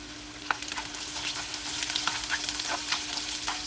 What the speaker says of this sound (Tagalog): And then, maglagay tayo ng ginger. Isaute lang natin ng garlic. 5 cloves of garlic. And then, ilagay natin yung red onion.